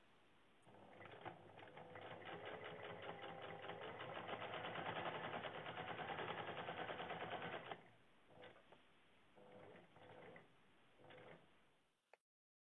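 A sewing machine stitches a strip of border along the side of a patchwork piece. It runs with a steady, close, rapid whirr for several seconds, then gives a few shorter stop-start bursts before falling quiet.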